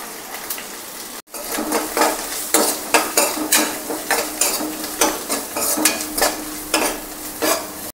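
Onions frying in a pan with ginger garlic paste and turmeric, for a radish curry, sizzle loudly as a utensil scrapes and stirs in quick repeated strokes, close up, with no talking.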